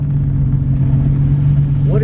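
The custom-built G50Z car's engine gives a loud, steady low drone that fills the whole moment, with a short chirp right at the end.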